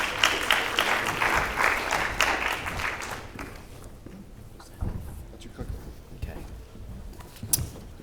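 An audience at a business forum applauds to welcome a speaker, a dense burst of clapping that fades after about three seconds into a quieter room with scattered footsteps and small knocks.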